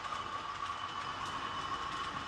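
A train rolls through a junction in the UK Train Controller game, a continuous rumbling drone with a steady hum and no clear clacks.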